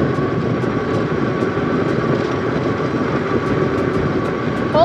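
An Aniioki AQ177 Pro Max eMoped-style eBike rides at full throttle, heading downhill, giving a loud, continuous roar of wind and rushing noise with a faint steady motor whine underneath; no speech.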